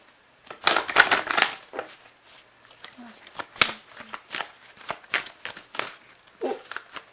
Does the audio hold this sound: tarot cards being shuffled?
yes